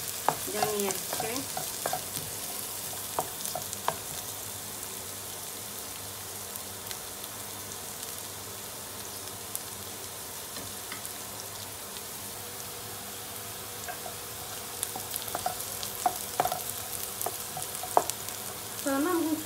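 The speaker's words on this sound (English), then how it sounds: "I'm going to fry my wet lamb without onion" Wet lamb fries in a pan without onion, giving a steady, even sizzle like light rain, with occasional stirring scrapes and clinks rising near the end.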